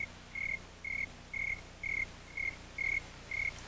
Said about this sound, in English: Ed, there's a cricket in here. It'll ruin the tape